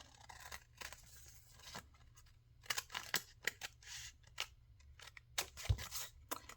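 Paper being trimmed away with scissors for a grunge craft piece, a quiet series of close, irregular snipping and crisp tearing sounds separated by brief pauses.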